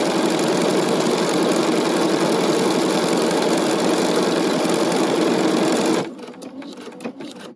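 BERNINA sewing machine stitching out lettering in combination mode, a fast steady mechanical whir running continuously for about six seconds, then stopping, with faint handling clicks afterward.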